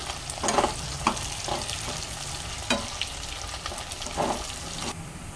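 Potatoes fry in a pan with a constant sizzle as a spoon stirs them, several distinct scrapes and knocks against the pan standing out at irregular intervals.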